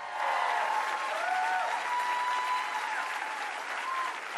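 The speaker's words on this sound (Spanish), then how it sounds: "Siempre hay nuevos aplausos." A crowd applauds steadily, a dense wash of clapping that holds at full strength from start to finish.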